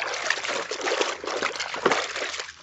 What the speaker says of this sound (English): I'm gonna put it in the rinse water.